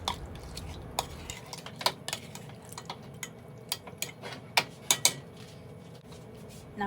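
Tomato sauce stirred into browned cube steak and sofrito in a pressure cooker pot, with scattered clinks and scrapes of a utensil against the metal over a low simmering background.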